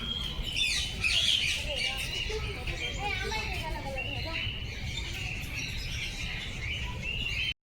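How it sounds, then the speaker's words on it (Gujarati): A grey and white cockatiel calls at a zoo garden in Surat, its shrill chirps repeating through the clip over a steady murmur of background noise. "રાખોડી અને સફેદ કોકાતિયર"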